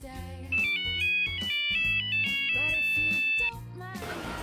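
A classic Nokia mobile phone ringtone plays its familiar bright electronic melody for a few seconds, clear and close, then stops.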